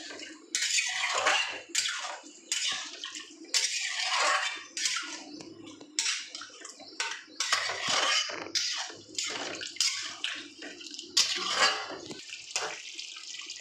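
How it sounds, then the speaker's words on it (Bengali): A bowl of water goes into a simmering cauliflower korma, giving a run of splashy, bubbling pours and stirring with light clinks of pot and utensil, steady and close, with no talking. "আমি 1 বাটি জল দিয়ে দিলাম।"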